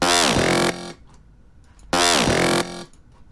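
A gritty dubstep saw bass patch from the Massive synth, run through effects, blares in two identical sustained bursts of about three quarters of a second each, separated by a short near-silent gap.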